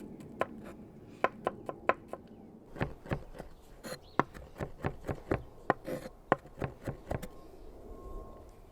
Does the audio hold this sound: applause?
no